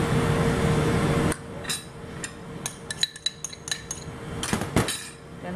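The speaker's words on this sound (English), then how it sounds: "Then I mix everything together, mix really well." Zucchini pancake batter with green onion and flour is stirred in a bowl, heard as a run of close, sharp clinks and scrapes of a utensil against the bowl after a brief burst of noise at the start, no talk.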